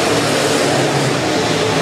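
B-Modified race cars roar past at Rapid Speedway, a loud, dense engine drone that fills the whole moment with no break.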